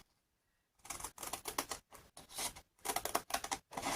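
A handmade shabby-style secret card is trimmed close up, with several crisp, rapid bursts of cutting or snipping separated by brief pauses and no voices.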